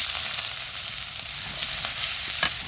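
Chopped onions hit hot oil in a pan for a curry, giving a loud, dense, close-up sizzle that crackles continuously with a few sharper pops and no voices.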